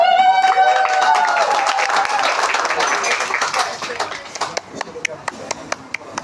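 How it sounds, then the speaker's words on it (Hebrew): Guests at a bar mitzvah clapping, a brief burst of applause that starts mixed with talk and music tones, then thins into scattered separate claps that fade out. "בבקשה, כפיים קטן."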